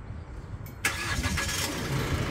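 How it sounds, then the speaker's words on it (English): A 2016 Holden Colorado Z71 engine catches by remote start, a sudden onset rising into a steady, close idle with broadband rumble that holds to the end, with no talk over it. "So that'll actually start the car for you too."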